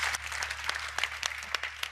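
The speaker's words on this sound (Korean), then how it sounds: "다시 한번 큰 박수 부탁드리겠습니다" Audience applause at an education forum lecture hall, a dense steady patter of many hands clapping with sharp scattered claps on top, sustained for about two seconds with no speech.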